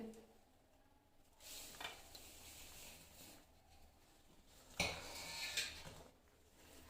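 Spoon scraping and clinking in a pan or bowl as desi sugar is mixed into besan panjiri, in faint repeated bursts of stirring.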